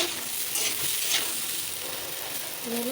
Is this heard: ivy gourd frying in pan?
yes